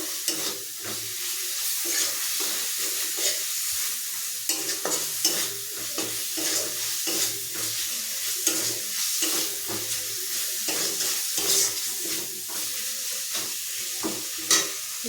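Vegetable gravy stirred and sautéed in a pan, with a steady close sizzle and repeated scraping strokes of the spoon running throughout, with no voices.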